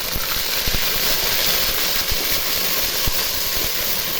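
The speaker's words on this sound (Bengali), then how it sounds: "আদা রসুন বাটাটা ভেজে নিব।" Ginger garlic paste fries in a pot with browned onions, giving a steady, close, broadband sizzle and hiss throughout.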